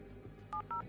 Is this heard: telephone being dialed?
yes